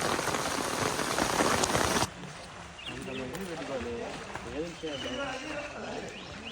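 Rain falls steadily during a swimming outing on a trip to Udupi, a dense hiss at first that drops to a softer patter after two seconds while voices talk over it.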